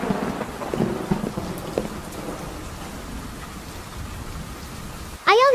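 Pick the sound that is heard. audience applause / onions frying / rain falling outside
rain falling outside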